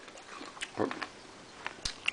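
Someone bites into a crisp Miller's Seedling apple and chews, giving a few sharp, close crunches and softer munching sounds, fairly quiet against a faint hiss of background.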